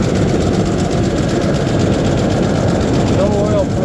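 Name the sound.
car engine running with no oil pressure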